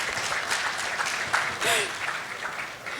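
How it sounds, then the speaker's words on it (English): An event audience at a stakeholder engagement forum claps in a sustained round of applause, dense and fairly loud throughout, with brief whoops or voices rising over it midway. "can you give him a round of applause?"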